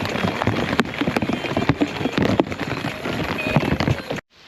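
Steady patter of rain hisses across a surface at a campsite in Southeast Michigan, with scattered sharper drops, then cuts off abruptly near the end.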